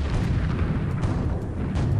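Cannon fire in the strategy video game Civilization II: Test of Time, a dense, loud, continuous rumble of booming blasts that fills the whole moment without any talk.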